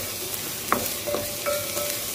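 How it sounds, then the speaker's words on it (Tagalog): Onions sizzling as they are stirred in a hot pan for adas polo, lentil rice with minced meat, with steady frying hiss broken by a few soft utensil clinks and scrapes; no voices. "atin munang lulutuin ang ating sibuyas"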